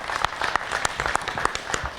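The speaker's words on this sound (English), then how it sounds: "Let's give him a round of applause as a congratulations today" Round of applause from a crowd honoring police officer Jonathan Hanson of the Moorhead Police Department, a brisk, even stream of many clapping hands, moderately distant and steady throughout.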